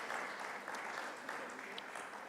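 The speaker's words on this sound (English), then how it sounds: "Another round of applause for our panelists" A conference audience applauding panelists, a dense patter of many hands clapping at moderate volume, heard from a distance in a large room.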